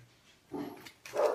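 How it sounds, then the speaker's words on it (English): A couple of short, faint dog barks or yips sound in the distance, separated by a brief pause, with no speech. "Sorry for my dogs barking."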